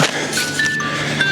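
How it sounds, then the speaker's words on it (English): An electronic wake-up alarm rings out with a steady, high-pitched tone that shifts pitch a few times, close by over a soft background hiss. "that's my alarm"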